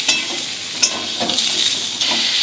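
Mixed vegetables for a Bengali panchmishali curry fry and get stirred in a pan, with steady sizzling broken by clattering scrapes of the spatula at irregular intervals, close and fairly loud.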